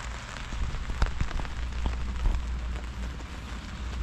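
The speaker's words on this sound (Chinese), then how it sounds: "我在甘肃的大西北遇到下了一整天的大雨" Heavy all-day rain drums steadily on a tent pitched in a hollow in northwest Gansu, a dense, close patter with scattered louder drops and no voices.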